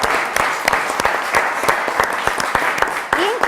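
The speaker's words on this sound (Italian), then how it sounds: "Fatevi un applauso e siete stati bravi." Applause for quiz show contestants after a correct answer, in an Italian town-versus-town quiz. A steady wash of clapping with sharp individual claps standing out, moderately loud and close, lasting throughout.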